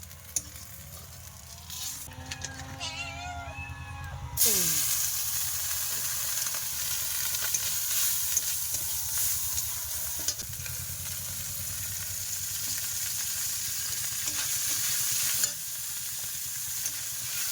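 Fish frying in hot oil in a pan: a loud, continuous sizzle with stirring scrapes, jumping sharply louder after a quieter start and holding steady until the end.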